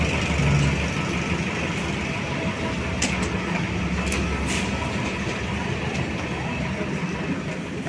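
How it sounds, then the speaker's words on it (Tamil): An airport shuttle bus in Nepal rumbles with a steady low engine drone and road noise, with a few faint clicks and rattles scattered over the continuous hum. "பார்த்தீங்கன்னா ஒரு ஷட்டில் பஸ் வச்சு தான் நம்மளை கூப்பிட்டு போகிறாங்க"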